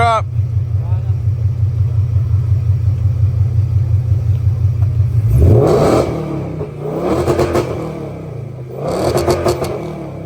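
A 2024 Saleen Mustang Black Label 800hp engine idles with a low rumble, then revs sharply three times in loud bursts, with voices talking in the background.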